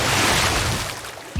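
Cartoon splash of a leopard tossed into a distant lake, a broad rushing burst of water noise that fades over about a second, alone with no talk.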